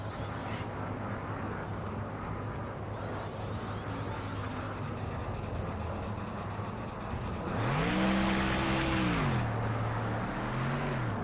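Race car engines in the NASCAR Thunder 04 racing game drone steadily as cars leave pit road, then one engine revs up loudly, rising and falling through gear changes near the end.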